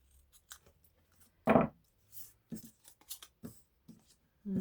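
Scissors snipping paper while assembling a floral washi tape journal, a few short separate crisp cuts close by with quiet gaps between them.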